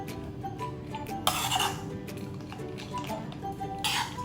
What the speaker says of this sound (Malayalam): ഇതിലേക്ക് നമ്മൾ വറുത്ത് വെച്ചിരിക്കുന്ന കടലയും നമ്മുടെ കാഷ്യൂ നട്ട്സും കൂടെ ചേർത്ത് നല്ല പോലെ മിക്സ് ചെയ്തെടുക്കാം